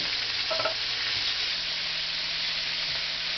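Chicken pieces frying in grease that is a little too hot, a steady dense sizzle and hiss running evenly throughout with no talk.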